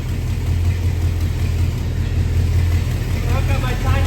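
A small-block Chevrolet 350 V8 engine idles close by, a steady low rumbling burble that holds an even pitch throughout.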